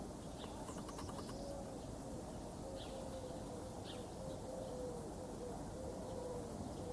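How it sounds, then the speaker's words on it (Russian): Pigeons coo softly in a repeated, low run of notes in the distance. The calls sit under steady outdoor background noise on a morning by the water. "И голуби гугукают, слышно?"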